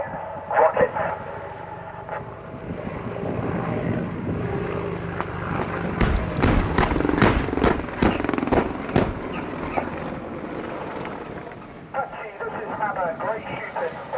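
An Apache helicopter fires rockets in an air show display: a burst of sharp rapid bangs and whooshes in the middle, over a continuous rotor and engine roar, with a commentator's voice over a public address system.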